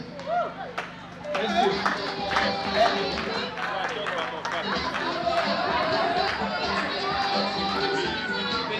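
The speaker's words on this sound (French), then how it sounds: "On applaudit." At a school awards ceremony, parents and pupils clap for a student among busy chatter and children's voices. The clapping is steady and moderately loud and runs for most of the stretch.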